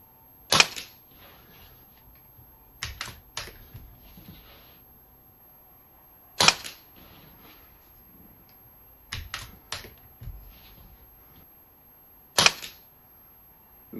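A Theoben Rapid 7 air rifle fires and is cycled by its bolt action at a range, giving sharp, isolated cracks and crisp metallic clicks spaced a few seconds apart, alone in a quiet setting.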